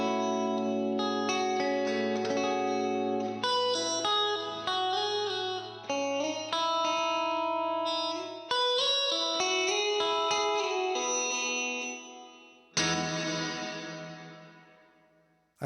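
An electric guitar plays a series of chords and single notes through a Flamma Corrector pedal's plate reverb, drenched in lush reverb, each strum ringing out into a long, shimmering tail.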